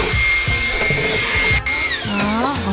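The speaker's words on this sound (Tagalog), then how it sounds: "Siya na nag-vacuum." A household vacuum cleaner runs steadily and close by, its motor whine holding level through the clip with a slight pitch sweep near the end, alongside low bumping and handling noise.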